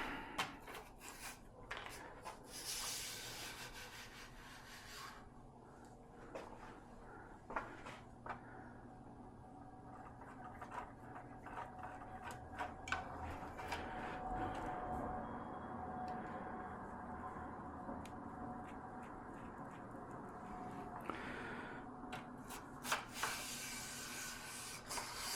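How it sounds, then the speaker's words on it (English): A cleaning rod scrubs back and forth inside the barrel of a French MAS 49/56 rifle, giving close, repeated raspy rubbing strokes with some light clicks and knocks on a workbench. "we'll give the barrel a little bit of a scrub."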